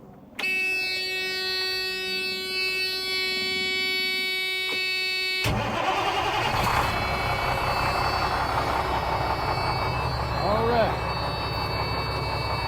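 A 1995 Freightliner FLD truck sitting unused for several years: a steady electrical buzz and whine, then the diesel engine catches and settles into a loud, broad running roar.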